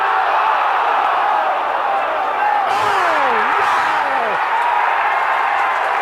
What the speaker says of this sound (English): The crowd goes absolutely insane